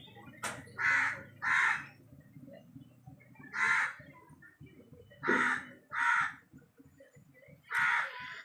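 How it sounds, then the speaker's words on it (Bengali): A crow caws several times in short harsh bursts, some in quick pairs, fairly faint against a quiet background rumble. "কাকটাকেও খিদে পেয়েছে কাকটা কা কা করছে"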